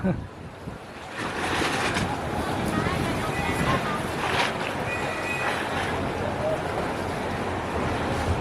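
A boat idles at the pier for Koh Larn at Bali Hai, Pattaya, under steady engine rumble, lapping water and wind noise, with someone talking over it throughout.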